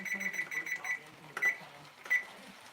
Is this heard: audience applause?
no